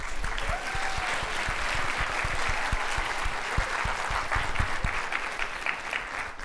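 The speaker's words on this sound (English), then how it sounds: "I think we need a round of applause for the teachers." Teachers in the audience at a cancer research talk are applauded with a steady, moderately loud wash of clapping from a large crowd throughout.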